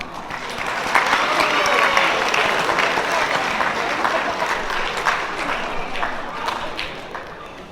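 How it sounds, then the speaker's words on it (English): Steady applause from an audience at a school underclass awards ceremony, a sustained, even wash of many hands clapping for several seconds at moderate distance. "Round of applause, please."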